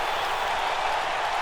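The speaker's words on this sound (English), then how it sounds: "This crowd is jacked here tonight" Steady, dense crowd roar with applause at a WWE 2K19 video game wrestling show, a continuous wash of cheering and clapping that holds level for the whole stretch with no break.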